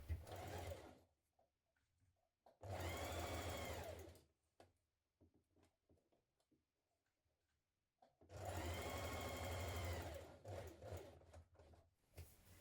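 A home sewing machine stitches around the neckline of a nightie in two distinct bursts of whirring motor and needle clatter, each several seconds long, separated by quiet handling sounds at close range.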